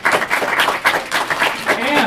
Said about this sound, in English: One more great big round of applause for our winners.